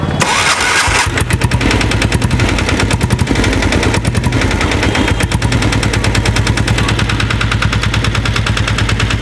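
A modified diesel Royal Enfield Bullet, fitted with a self starter, cranks and fires into a loud, rapid, close diesel knock that settles into a steady rhythmic idle, with no voices heard.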